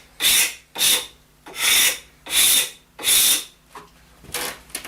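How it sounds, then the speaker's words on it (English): Rhythmic rasping strokes scrape lacquer off a wooden snooker cue shaft, five strong passes in a steady back-and-forth rhythm, then a couple of lighter ones, close and clear. "It's a massive amount of lacquer I'm taking off, and it's just coming off really easily."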